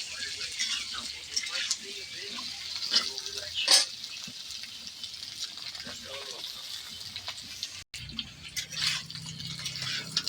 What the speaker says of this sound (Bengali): মিষ্টি কুমড়োটাও ভাজা হয়ে গেছে